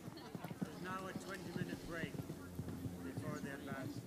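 A horse gallops on a cross-country eventing course, its rhythmic hoofbeats thudding at a steady stride beneath continuous commentary from announcers.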